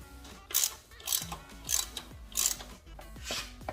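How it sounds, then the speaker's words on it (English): A T30 Torx driver tightens the ABS sensor bolt on a BMW F 750 GS / F 850 GSA wheel, giving five quick bursts of close ratcheting clicks with short pauses between them. "So this bolt for the ABS sensor that goes right there is a T30 Torx."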